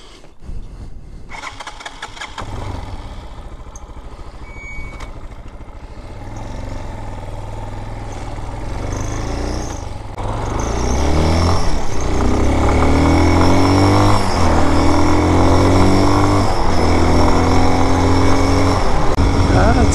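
A Raven 250 Enduro motorcycle runs on the road, its engine droning steadily and then growing louder with rising and falling revs as it accelerates through gears, with wind rush throughout.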